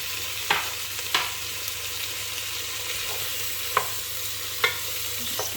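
Vegetables for a vegetarian chilli fry softly in a pan, a quiet steady sizzle with a few sharp scrapes and clinks of stirring spaced through it, heard close and without talk.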